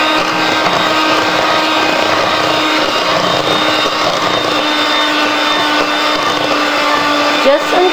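Muffin batter for blueberry muffins being mixed, likely with an electric mixer: a loud, steady motor whir with a constant hum runs nearly unbroken for the whole stretch, with no talking.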